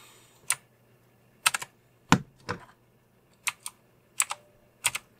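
Separate key presses on an onn. full RGB mechanical gaming keyboard, a handful of sharp single and double clicks spaced about a second apart, close and clear over near silence.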